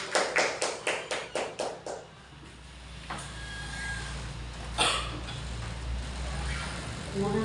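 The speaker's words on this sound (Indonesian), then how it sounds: "Beri tepuk tangan untuk Bu Fitri." Rhythmic group hand clapping at a school gathering: about eight sharp, evenly spaced claps in quick succession, then fading into room noise with a couple of isolated knocks later.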